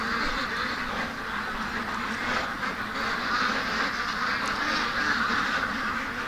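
Alarmed ducks quacking at night in a steady, overlapping chorus at a moderate distance, continuous across the whole stretch with no voices.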